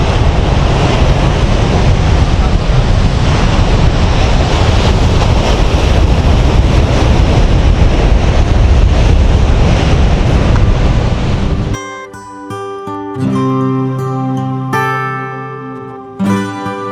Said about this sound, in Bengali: আর যেভাবে পাথরগুলোতে এসে আছড়ে পড়ছে জলগুলো